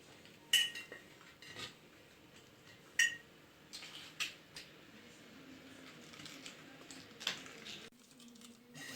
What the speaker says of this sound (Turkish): Şöyle alt kısmına lahanaları iyice bastıra bastıra yerleştirdim.